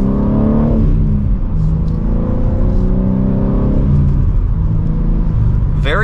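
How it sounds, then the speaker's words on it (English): A 2023 BMW M3 with a manual gearbox accelerating hard from second gear, the engine note rising steadily in pitch, a shift near the one-second mark and another near four seconds, loud and close from inside the cabin. "And with an acceleration from second gear"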